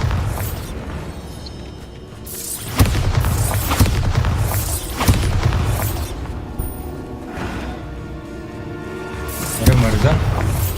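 Bombarda spell explosions in the Hogwarts Legacy video game, several deep booms landing at irregular intervals over a steady background, with a voice talking in between.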